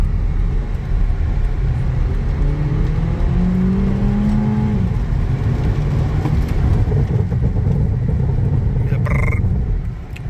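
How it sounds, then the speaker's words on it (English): A Honda Civic engine revs up through rising pitch accelerating from 0 to 40, then the loud road rumble fades as ABS braking slows it to a stop on a wet road. "Do a quick 0 to 40 to 0. Show you the acceleration and the ABS braking."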